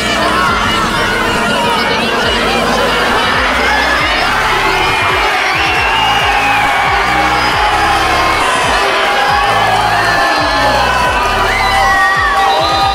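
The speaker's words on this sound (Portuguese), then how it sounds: "A torcida gritou tão alto que ficou difícil de escutar o craque da voz" A football crowd at a Supercopa Trivella match between Rio Athletic and Flu Recreio cheers and shouts loudly and continuously, a dense roar of voices with high-pitched yells layered on top.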